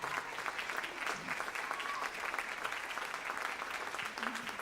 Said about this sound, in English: Keep your applause going, everybody.